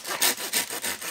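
A hand saw cuts through wood at a solo campsite, with four rhythmic rasping strokes, each push loud and close, separated by brief quieter draws, no talking.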